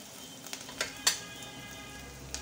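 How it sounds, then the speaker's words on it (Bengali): Ground spices sizzle as they are fried in a pan. A soft, steady crackle is heard close up, with a few sharper pops and light stirring sounds, and no voices. "বন্ধুরা মশলা কষানো হয়ে গেছে,"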